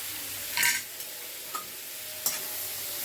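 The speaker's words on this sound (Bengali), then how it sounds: "দিয়ে আবার সব কিছু ভালো করে মিশিয়ে নিচ্ছি। অনবরত কিন্তু নাড়তে হবে, নাহলে কিন্তু পোড়া লেগে যাবে।" Potatoes stirred with ginger garlic paste in a pan, a soft continuous sizzle with a few brief scraping strokes of the spoon, faint and close with no talking.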